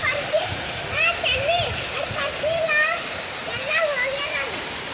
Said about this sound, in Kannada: ಈಗ ಎಷ್ಟು ಜೋರಾಗಿ ಮಳೆ ಆದ ನೋಡ್ರಿ.